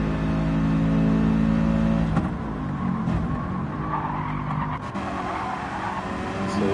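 An AMG race car in a racing video game revs hard and strains up a slope, its engine note holding for a couple of seconds before breaking into skidding and tire noise, loud and close.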